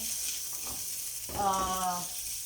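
Carrots fry in a pan with a soft steady sizzle, joined midway by a brief tonal voice-like sound over the hiss.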